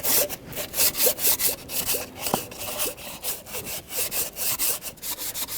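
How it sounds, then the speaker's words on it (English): Steady back-and-forth scraping of sandpaper on an intake manifold surface of a Toyota Corolla 1.8L engine, with rhythmic strokes repeating about twice a second, close and fairly loud. "So now we'll get that dirt out of there and we'll start sanding."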